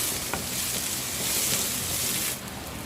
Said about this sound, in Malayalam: ഇതിലേക്ക് ഒരു പിടി വേപ്പിലയും കൂടെ ചേർത്ത് കൊടുക്കണം. എല്ലാം കൂടി ഇളക്കി യോജിപ്പിക്കണേ.